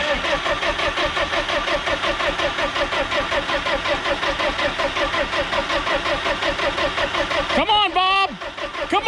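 A Ford F350 with a Power Stroke diesel engine, with an engine swap to a 12-valve Cummins planned, cranking loudly with a steady rhythmic churn for several seconds before the starter cuts off with a brief whine.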